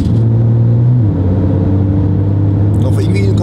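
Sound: Porsche 911 Turbo S pulling away smoothly

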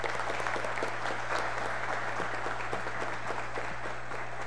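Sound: applause for the athletes

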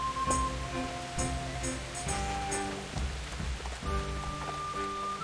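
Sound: rain falling in a video game

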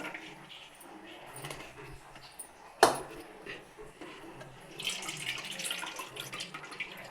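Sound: pouring tamarind water for ginger curry

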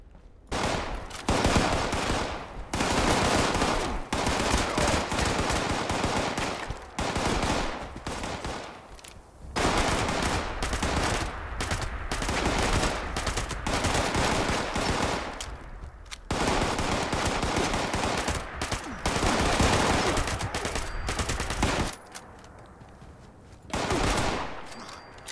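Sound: Gatling gun firing in the video game Fallout 76

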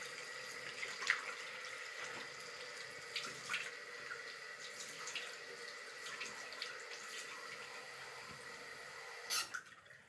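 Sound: water running while washing face

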